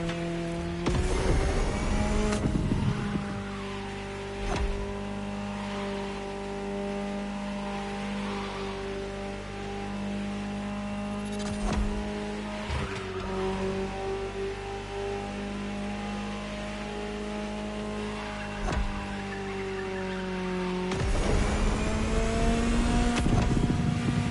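A Ferrari supercar engine drives in The Crew Motorfest, a steady, loud engine drone with sustained harmonic tones that shift in pitch as it accelerates and revs, with brief sharp transitions, heard alone without talk.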